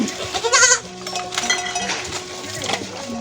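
Goats bleat on a village farm in Tanahun, Nepal, a strong nearby call early on followed by softer bleats and animal sounds through the rest.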